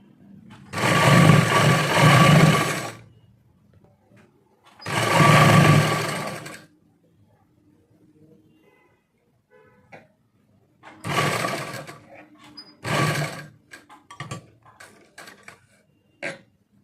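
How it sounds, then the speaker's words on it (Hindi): Sewing machine stitching a trouser waistband with a front belt, several bursts of rapid mechanical whirring, two long runs followed by shorter stop-start runs with brief pauses and faint handling sounds between. "सारे में इस तरह से सिलाई लगा लेनी है।"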